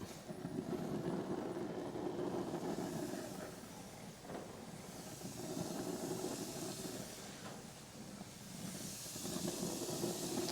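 Soft, continuous sizzling hiss of hamburgers frying on a hot grill, rising and falling gently in intensity.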